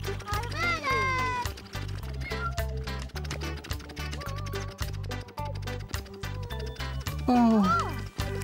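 A little black cartoon cat meows a few times over a steady, bouncy musical backing, with a higher, drawn-out mew near the end.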